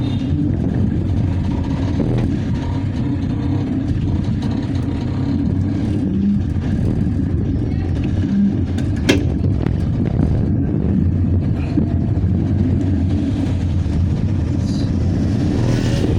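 An auto rickshaw engine runs steadily while driving, a continuous low mid-pitched drone with a brief sharper sound near the middle, with no talking.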